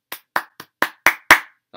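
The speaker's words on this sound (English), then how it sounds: "a massive round of applause from me" A short round of applause from a single person, seven separate close hand claps in an uneven rhythm with silence between them and no talk.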